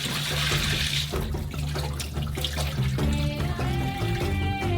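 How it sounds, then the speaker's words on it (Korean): Water from a pot of boiled potatoes pours and splashes steadily into a sink, a continuous rushing flow that shifts slightly in tone near the end. "그런 다음 물을 버리고"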